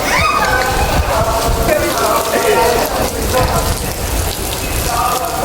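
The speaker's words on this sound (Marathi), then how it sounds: "पाऊस पडतोय" Steady, heavy rain patters on surfaces throughout, while people talk over it.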